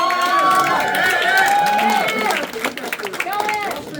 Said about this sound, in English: Clap it up for Ed.